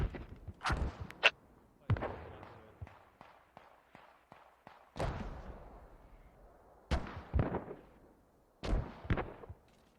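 Mortar and artillery blasts in a competitive online war game match, a handful of sharp booming impacts spaced a second or two apart, some clustered in quick pairs, with decaying rumble between and faint voices underneath.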